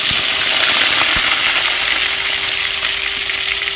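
Potatoes frying in a pan, a loud, dense, continuous sizzle close up with a few small clicks, no speech.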